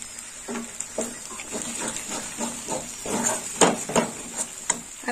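A spatula stirs katla fish head with green chilli paste and turmeric in a pan, making a run of rhythmic scraping strokes over a low sizzle, close and moderately loud.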